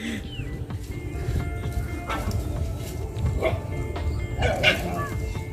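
Distant dogs fighting in a village crop field, with repeated yelps, barks and snarling bursts over steady outdoor ambience as one dog bites another.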